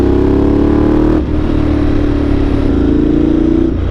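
A Ducati motorcycle engine drones loud and close while riding on an open road, a steady throaty hum with a slight pitch change as the rider shifts, and no talking over it.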